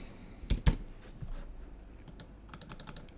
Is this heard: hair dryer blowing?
no